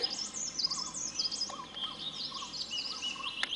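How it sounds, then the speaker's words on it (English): A black-winged cuckoo-shrike gives repeated high, thin chirping calls in short bursts, fairly faint against a steady hiss of outdoor background noise. "Black-winged cuckoo shrike."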